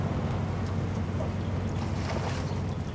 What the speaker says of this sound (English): The vessel is aground, but the engine continues slowly ahead to help maintain position.